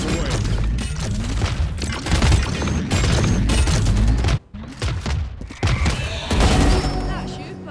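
A missile barrage in Valorant: dense, loud volleys of rapid blasts and thumps that pound on for several seconds, break off briefly near the middle, then return in further heavy bursts.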